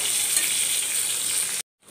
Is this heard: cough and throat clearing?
no